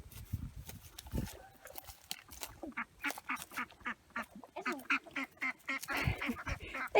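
Backyard ducks quacking in a run of repeated nasal calls that grow busier and louder toward the end, fairly close, with brief faint human voice sounds early on.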